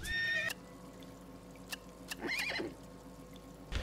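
A horse neighs loudly in the survival game Sheltered, a clear whinny at the start, followed by quieter game sounds and a second short whinny-like call near the middle, with no talk.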